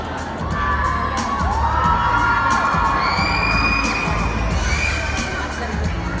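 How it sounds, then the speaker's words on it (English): At a beauty pageant Q&A, a large crowd cheers, shouts and whoops continuously and loudly, with high-pitched screams rising above the steady roar, all in a big hall. "I love a nice active crowd."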